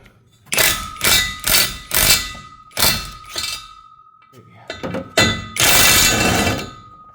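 A tool works bolts loose at the back of a Volkswagen R36 engine, giving a series of loud metallic clanks and rattling bursts in uneven clusters, close by, with a steady ringing tone underneath and a long final buzzing run.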